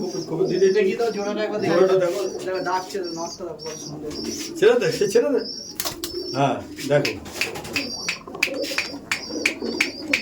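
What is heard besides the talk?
pigeons cooing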